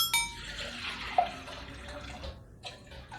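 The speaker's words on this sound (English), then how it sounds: "I add 1 liter of the water." Water is poured into a cooking pot to make broth for Korean doenjang stew, a quiet splashing trickle with a few soft drips and clinks in a kitchen.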